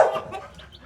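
A mother hen with young chicks gives a short, close cluck that trails off into softer murmuring notes, heard alone.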